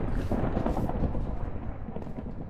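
Thunder rumbles through a Minecraft world during a lightning storm, a dense, continuous low roll with rain-like hiss, loud and close for the whole stretch with no talking.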